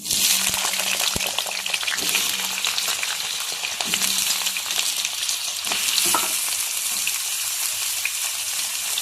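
Potato strips fry in hot oil with a steady, dense sizzle and crackle, stirred with occasional utensil knocks, close and loud throughout.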